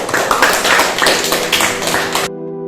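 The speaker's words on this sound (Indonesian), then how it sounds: "kasih aplaus dulu untuk kalian" Students in a classroom clap for a short stretch, a fairly close, irregular patter of hands that stops abruptly, leaving a faint tonal hum.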